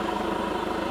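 A Chevrolet Colorado diesel with an aftermarket intake and exhaust, its engine running steadily with a deep rumble and a hiss of turbo spool, close and constant through a short moment.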